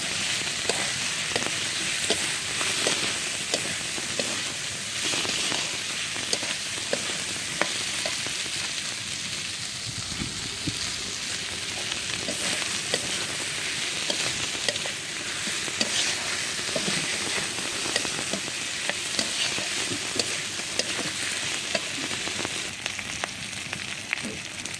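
Prawns and bay leaves sizzle in hot spiced oil while being stirred in a pan, a continuous crackling fry punctuated by frequent scraping and tapping stirs, close and steady, with no talking.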